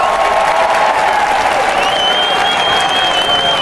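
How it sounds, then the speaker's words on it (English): Loud, dense applause from a crowd, a steady wash of clapping that holds at full strength throughout, heard close with no pause. "let me give y'all a applause."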